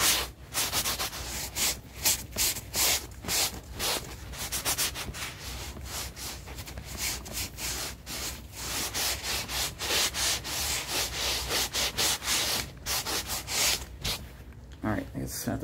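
Close, rhythmic rubbing and scratching strokes in an ASMR cranial nerve exam role-play, repeated in quick dry bursts almost continuously, with soft talk underneath.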